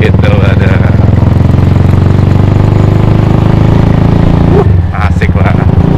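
A Benelli Motobi Evo 200 motorcycle engine idles with a steady, low throb. Someone talks over it the whole time.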